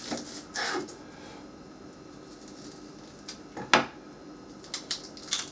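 Kitchen handling sounds while preparing a small onion for cooking: scattered knocks, clinks and scrapes on a board or utensils, close and moderately loud with quiet pauses between.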